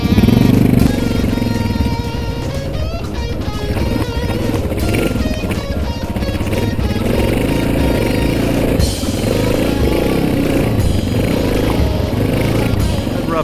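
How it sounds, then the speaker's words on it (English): An off-road motorcycle engine labors loudly and up close while climbing a rough power line trail near White Sulfur, its throttle surging and dropping with clattering bursts throughout. "This engine's got a lot of power."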